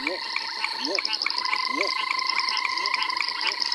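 Banded rubber frogs call in a dense, constant chorus of buzzing trills, loud and unbroken, with a few rising chirps mixed in.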